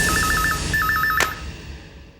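Two quick bursts of telephone keypad dial tones as someone calls the police, followed by a short sharp click, with a low background hum throughout and no voices.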